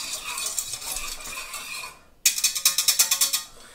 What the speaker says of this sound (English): I'm just going to whisk that together so it's nice and homogeneous